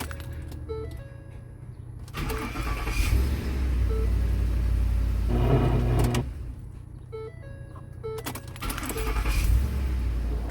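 A Ford F150's 5.4L Triton V8 cranks on a new starter in a few loud bursts of whirring and rumbling, with quieter gaps between attempts.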